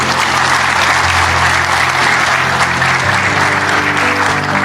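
Audience applause at a talk on overcoming depression, dense steady clapping from a crowd held at full strength for the whole stretch.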